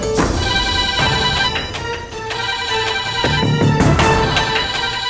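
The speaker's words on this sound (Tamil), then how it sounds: "ஏண்டா போன் அடிச்சிட்டே இருக்க எடுக்காமே இருக்க" A phone ringtone plays loudly and continuously in a Tamil television serial scene, its melodic tones repeating over a dense musical background with no talk.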